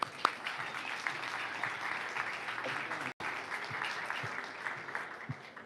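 An audience at an indoor charity event claps for a speaker, steady applause with scattered sharper claps and a brief dropout partway through.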